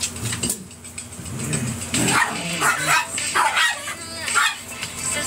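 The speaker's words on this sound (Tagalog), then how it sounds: "from my dogs." Dogs bark and yip nearby in a series of sharp, irregular barks with some whimpering, loud and close in an indoor room.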